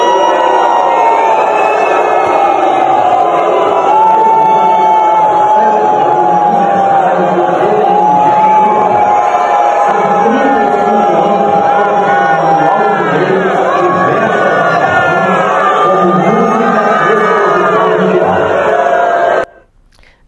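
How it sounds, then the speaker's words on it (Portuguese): A large event crowd loudly booing and jeering at a video speech by Zema, a dense sustained roar of voices with scattered shouts and whistles that carries on for about twenty seconds, then cuts off abruptly. "foi um minuto e pouco essa vaia que impediu, inclusive, que o discurso dele fosse ouvido pelos participantes desse evento"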